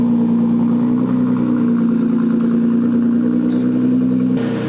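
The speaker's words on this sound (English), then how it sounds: "Let's get this car on the dyno." A steady, loud engine drone of a stage 4.25 Nissan GT-R on a dyno, held at constant revs with a strong low hum, running continuously before a brief shift near the end.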